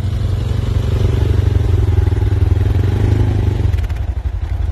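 An ATV engine drones steadily close by as it rides through a sand pit, a loud continuous motor tone that drops and changes near the end.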